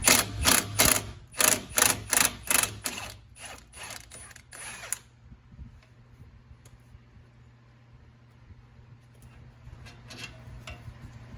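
Socket ratchet clicking in quick repeated bursts while a 13/16 bolt on a car's strut tower is loosened, loud and close for the first five seconds, then giving way to quiet shop ambience with a few faint clicks.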